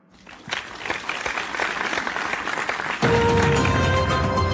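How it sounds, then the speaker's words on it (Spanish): A crowd breaks into applause that swells and grows louder, then blends with a bright musical tone as the clapping continues. "Gracias por venir señor Mauricio, un aplauso para él."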